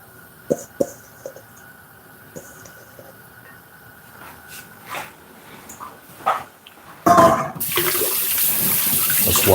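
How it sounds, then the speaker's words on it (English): Tap water gushes loudly into a sink for handwashing in a home kitchen, a steady rush coming in near the end after a few sparse knocks and a dog's bark or two. "Let's wash off these hands."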